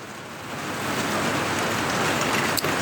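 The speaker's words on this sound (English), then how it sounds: "you can see it's raining" Steady rain patters and hisses across surfaces outdoors, a dense even wash that swells slightly in the first second, with a brief knock near the end.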